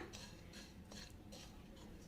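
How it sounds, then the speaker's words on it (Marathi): A spoon scrapes and taps rhythmically against a metal pot, stirring a dry spice mix with green cardamom, several quick stirring strokes, soft and close. "चला आता हे मिक्स करून घेऊया"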